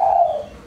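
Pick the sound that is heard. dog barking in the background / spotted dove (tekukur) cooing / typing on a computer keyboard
spotted dove (tekukur) cooing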